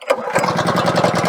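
A small gas engine on a single-wedge wood splitter catches after one pull of the recoil cord and settles into a loud, steady, chugging idle close by.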